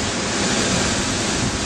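A 40-foot waterfall at Fossil Creek, Arizona roars as a steady, broad rush of falling water, loud and unbroken throughout with no voices.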